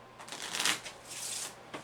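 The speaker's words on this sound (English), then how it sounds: "just so it can be seen that the cards are indeed being shuffled" Tarot cards riffle and shuffle in a few quick bursts on a tabletop, soft papery flutters rising and falling close by with short pauses between.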